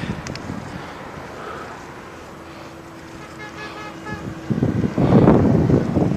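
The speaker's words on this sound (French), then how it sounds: "Il y a trop de vent maintenant." Steady wind rushes and buffets the microphone during a bike ride in Ecuador, growing louder toward the end, with a faint tonal hum in the middle.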